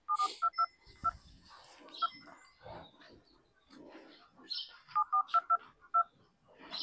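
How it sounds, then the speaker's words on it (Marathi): Touch-tone telephone dialing on speakerphone during a dairy farm livestream, two bursts of rapid DTMF beeps with faint background noise and low talk between them. "लाईव्ह मध्ये फोन लावतो मी, स्पीकरला टाका फोन"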